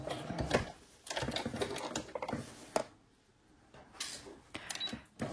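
A sewing machine stitches a knitted pouch in rapid, close, rattling bursts, stopping briefly and then starting again at a steady normal speed.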